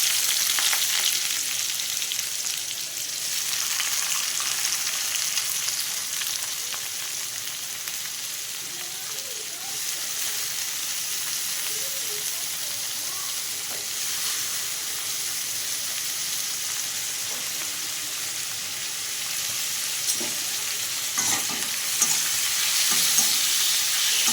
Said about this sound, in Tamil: பட்டை சோம்பு பொரிஞ்சதும் இதில் நம்ம வெங்காயம் சேர்த்துக்கலாம்